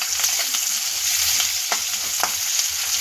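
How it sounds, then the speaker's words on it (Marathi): Chopped onion sautés in hot oil with cumin and mustard seeds for a potato bhaji, giving a steady close sizzle with faint spoon-stirring scrapes and ticks throughout. "कांदा परतत आहे तोपर्यंतच आपण त्यामध्ये ही हिरवी मिरची जी आपण एक कट करून घेतली होती ती टाकू"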